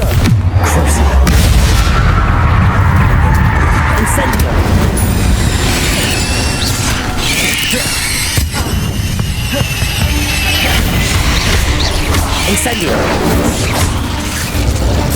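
Bombarda and Confringo spell blasts go off repeatedly in Hogwarts Legacy, a loud dense stretch of booms, bangs and crackling impacts layered over continuous game noise and music.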